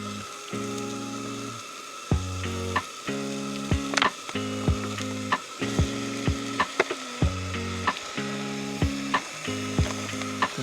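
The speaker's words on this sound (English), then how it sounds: "Put some mince in." Minced meat sizzling in a pan at an outdoor campsite, a steady frying hiss broken by repeated scraping and stirring sounds, with a recurring low tonal hum running alongside.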